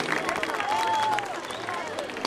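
A festival audience at the Altın Sardalya (Golden Sardine) festival in Gelibolu applauds the orchestra, a thick, sustained wash of clapping and crowd noise with an amplified voice speaking over it.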